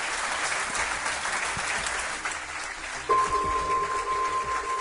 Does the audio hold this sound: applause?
yes